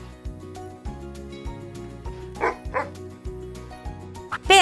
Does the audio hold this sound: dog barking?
yes